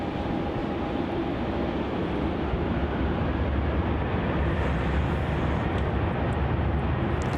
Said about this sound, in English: Departing off runway 34 now is Virgin Australia flight VA827 taking off to Sydney